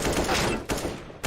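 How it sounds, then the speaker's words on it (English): Rifle fire in a competitive shooter match on the Inferno map, a loud rapid burst of shots, close and dense, over about a second. "with the rifle picked up and another headshot"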